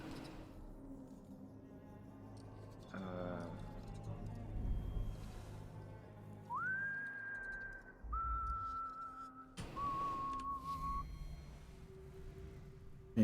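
A game character in Dishonored: Death of the Outsider whistles a few sustained tones, clean and moderately loud over quiet ambient game sound.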